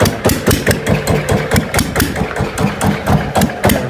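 A GA70 engine runs on a mounting frame, close and loud, with a rapid, steady knocking beat like a small single-cylinder idle.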